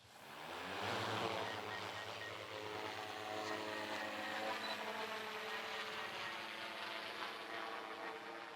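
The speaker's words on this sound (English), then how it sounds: "akan menerbangkan drone kita pada sekarang ini" A survey drone used for 3D mapping takes off and flies. Its faint, steady motor whine swells in the first second and then holds an even, distant hum.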